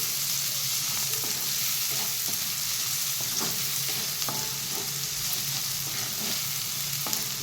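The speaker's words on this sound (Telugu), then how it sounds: "బ్రౌన్ ఫ్రై అయ్యేలాక మెంతాకు కూడా ఇంకా బాగా ఫ్రై అయింది" Fenugreek leaves fry in a pan for an egg curry, giving a steady close sizzle with a few soft stirring clicks. No one speaks.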